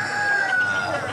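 A fighting cockerel crows in a single sustained call, loud and close, with a steady wash of background noise behind it.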